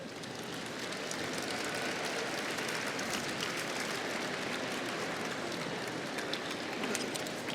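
A graduation audience at a University of Virginia valedictory ceremony claps steadily in dense, continuous applause that holds at an even level throughout, with no clear voices over it.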